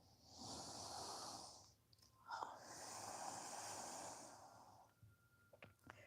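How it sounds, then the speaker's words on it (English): Slow, steady breaths drawn in and let out through the nose during a guided relaxation and twisting stretch, two long soft airy passes with a faint snort-like sniff near the end, close and quiet with no talking. "Breathing through our nose."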